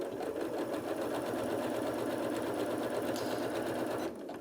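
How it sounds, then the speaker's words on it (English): Janome Atelier 9 sewing and embroidery machine stitching: a steady, fast mechanical whir and rattle, close and continuous, stopping abruptly near the end. "I'm going to drop the presser foot down and start sewing."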